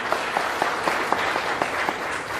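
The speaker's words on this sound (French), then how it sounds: "Ça vaut le coup d'être applaudi" An audience applauds a cheque handover at the closing ceremony of a national reconciliation week, a steady, fairly loud wash of clapping with distinct individual claps throughout.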